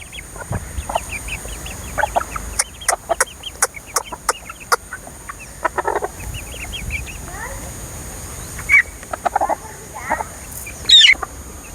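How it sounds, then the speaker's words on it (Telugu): Hens cluck in short, scattered bursts close by as they eat scattered rice, with sharper pecking ticks and an occasional squawk over a steady background hiss. "చూడండి ఫ్రెండ్స్ ఎట్ట తింటున్నాయో మా కోళ్ళు."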